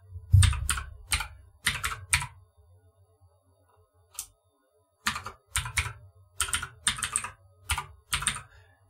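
Typing on a computer keyboard while entering a university remote lab service login, heard as short bursts of clicky keystrokes separated by pauses, close and fairly clear.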